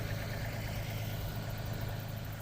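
A tractor engine idles close by with a steady low rumble and vibration, constant and unbroken, with no voices.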